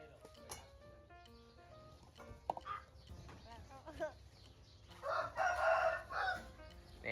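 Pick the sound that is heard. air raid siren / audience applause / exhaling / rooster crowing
rooster crowing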